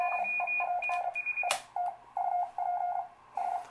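An SB-102 radio receiver played through a 400 hertz filter, giving clean narrow-band Morse-like tones in short bursts with gaps between them and one sharp crackle partway through, fairly quiet and with no speech.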